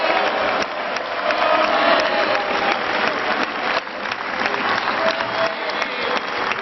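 A dense, sustained round of applause fills the European Parliament chamber, many hands clapping at once in a loud, even roar that holds steady without any speech over it.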